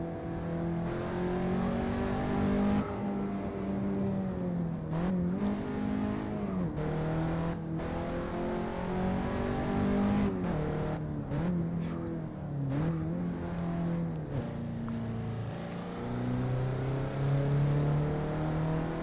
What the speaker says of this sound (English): It really sounds like a 4-cylinder engine to me.